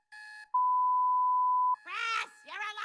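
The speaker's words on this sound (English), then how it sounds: "Chris, your alarm is going off!" An alarm sounds with a short tonal chime and then a sustained steady electronic beep lasting about a second, followed by voices talking in an animated cartoon scene.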